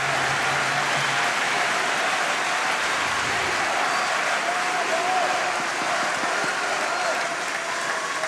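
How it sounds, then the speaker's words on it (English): Players on the German bench at a 2012 world table tennis championship team match stand and applaud, sustained clapping blended into a loud arena crowd roar throughout. "The German players on the bench on their feet applauding"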